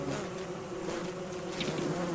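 Swarm of bees buzzing in the Don't Starve game, a dense continuous drone of many insects up close, steady and loud with no voices over it.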